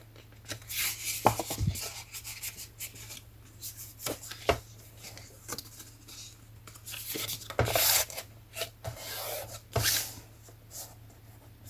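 Paper being folded and creased by hand for a handmade Christmas card made from scrap card, giving soft rustles and a few sharp crisp crackles with quiet pauses between, close and alone.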